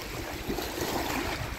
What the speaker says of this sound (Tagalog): kasi nga po ito ay dam